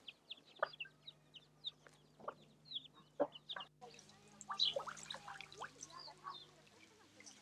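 Scattered clucks and short calls from free-roaming chickens at an open-air museum, faint and intermittent at first, then busier chatter from the flock with a steady low hum underneath.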